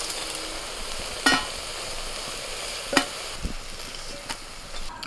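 Banana flower fritters (mochar bora) fry in hot oil with a steady, close sizzle, broken by a few sharp clinks of a spatula or utensil against the pan; no talking.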